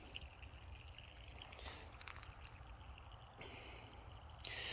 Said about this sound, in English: I'm just watching the water drain out.